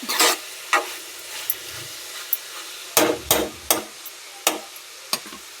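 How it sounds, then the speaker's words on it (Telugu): A spoon scrapes and stirs bitter gourd curry in a pan to keep it from sticking, about a dozen short scraping strokes in an uneven rhythm, close and fairly loud with a faint sizzle between them. "ఓకే అడుగంటుతుంది. వేరే పని చేసుకోలేము. కలుపుకుంటూ ఉండాలి."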